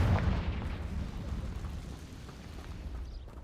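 A Confringo blasting spell in Hogwarts Legacy goes off in a single sharp explosive burst at the start, then a rumbling tail fades out over a few seconds.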